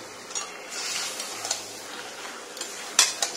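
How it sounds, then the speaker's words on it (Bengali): Chicken pieces stirred into a cooked spice paste in a pan with whole potatoes, giving a steady soft sizzle with scraping spoon strokes and a few sharper clinks of utensil on metal near the end. "এবারের মধ্যে চিকেনটা অ্যাড করব"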